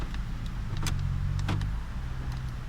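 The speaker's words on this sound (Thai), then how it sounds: "กระจกปรับพับไฟฟ้า" A steady electric motor whir as a parked Honda Civic FD 1.8S power-folds its side mirrors, with a couple of faint clicks over a low idling hum.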